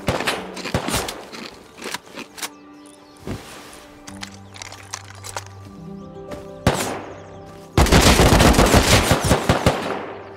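Gunfire in the Rust video game: bursts of rapid automatic shots and single cracks, loud and close, ending in a dense, sustained volley.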